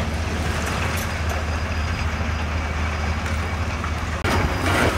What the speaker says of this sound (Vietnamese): công việc của bác Tài hôm nay là chính là xúc lên ô tô những cái viên đá này